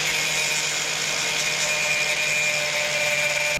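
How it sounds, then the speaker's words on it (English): Angle grinder slitting a metal part up the middle, a loud, continuous high-pitched whine with a steady grinding hiss and no pauses, close by and alone. "just get an angle grinder and slit it up the middle"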